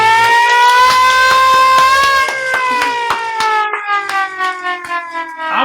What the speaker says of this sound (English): I want my siren back